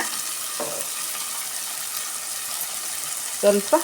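Ingredients for a green gram gravy fry in a pan with a steady, soft crackling sizzle, broken by a couple of brief scraping stirs, mostly toward the end.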